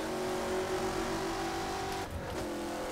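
Race car engine in the rFactor sim racing game holding a steady high drone, then a brief dip around a gear change into fifth before the tone resumes, continuous and loud with no talking.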